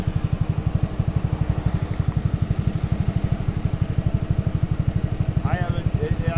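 Two-stroke scooter engine running close by with a rapid, even putter that holds steady throughout, and a voice briefly comes in near the end.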